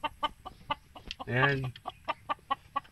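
Chickens cluck in short repeated bursts near a laying hen, with one longer drawn-out squawk in the middle; a brief spoken word is heard among them.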